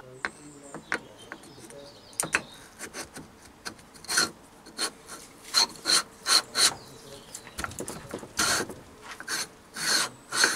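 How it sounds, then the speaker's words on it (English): Gib strip from a Myford ML7 lathe compound slide being lapped with grease by hand pressure, giving repeated short scraping, rasping strokes in an irregular rhythm, close and fairly loud, with faint bird calls in the background. "This time I'll just put a bit of grease on that side when I'm lapping the gib strip."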